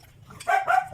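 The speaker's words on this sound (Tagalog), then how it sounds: "Kakain na yung aso" A dog gives two quick, close barks, short and yappy, after a moment of near silence.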